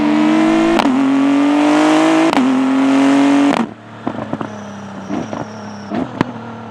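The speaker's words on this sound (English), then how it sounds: "There's almost a bit of motorbike in there, the sound of the engine." A Praga Bohema sports car engine, heard from inside the cabin, holds a loud, flat, mechanical growl that climbs through two quick upshifts, then lifts off into quieter burbling with scattered crackles.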